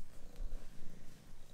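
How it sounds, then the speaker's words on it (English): Cat purring close to the microphone, a soft, continuous low rumble that pulses gently with each breath, heard alone. "Your purr is so epic."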